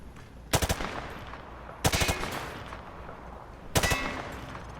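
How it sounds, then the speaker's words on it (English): Three bursts of rapid automatic gunfire fired from the hip in Call of Duty: Modern Warfare 2, each a short loud rattling volley separated by pauses over a steady background hum. "He sprayed bullets all over the damn place."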